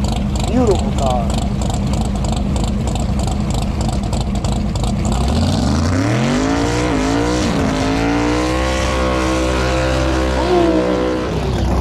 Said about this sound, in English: Soaring down the drag strip.